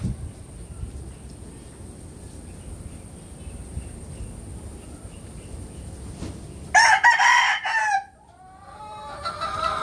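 Sweater gamefowl roosters in a breeding pen, one crowing loudly and close for a couple of seconds near the end, over a steady background hum with faint insect chirring.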